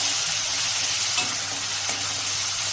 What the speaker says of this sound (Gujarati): આપણે તેમાં ટમેટાં ઉમેરી દઈશું ત્યારબાદ તરત જ એક ચમચો દાળ ઉમેરી અને આ સારી રીતે મિક્સ કરી લઈશું